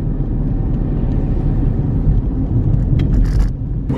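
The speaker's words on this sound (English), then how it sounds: "We are really stopping and starting right now, not moving fast at all with the traffic." A car crawls through rush-hour stop-start traffic in central Edinburgh, heard from inside as a steady low engine and road rumble, with faint scraping and clicks near the end and no talk.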